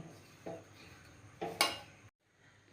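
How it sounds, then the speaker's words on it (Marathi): Spoon stirring melting jaggery in ghee in a pan, a few soft scraping clinks of metal against the pan spaced apart, quiet and close, with a brief brighter clink near the end. "गुळ हे वितळताना आपल्याला हे सतत मिक्स करायचं आहे"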